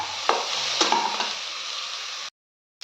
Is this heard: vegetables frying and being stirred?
yes